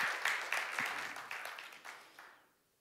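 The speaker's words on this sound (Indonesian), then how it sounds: "Oh, kita berikan tepuk tangan yang meriah." A church congregation claps during an online worship service, scattered hand claps with distinct sharp peaks that thin out and fade to near silence by the end, fairly quiet and somewhat distant.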